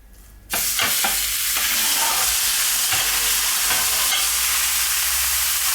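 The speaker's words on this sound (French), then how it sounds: "je viens y déposer donc le steak haché" A minced beef burger patty lands in a hot frying pan and sizzles loudly and continuously, a close, bright hiss that jumps up at the start and holds steady, with a few faint scrapes and no speech.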